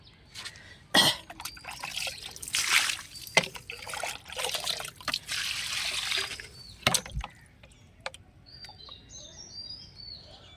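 Liquid fertilizer trickles and splashes onto a ridge gourd plant climbing a trellis as it starts to flower, in uneven pouring bursts with birds chirping nearby in the background.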